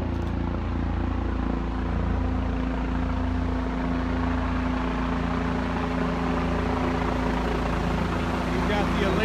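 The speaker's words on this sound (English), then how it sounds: "We've got the Aliyah helicopter right overhead." A helicopter hovers overhead at an ATV crash rescue scene, giving a steady, loud low rotor and engine drone that runs throughout.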